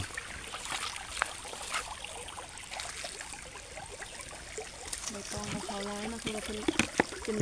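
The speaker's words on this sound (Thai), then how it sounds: "น้ำไหลดิ" A creekside stream flows with a steady trickling and splashing wash of water in the morning, while a person talks over it toward the end.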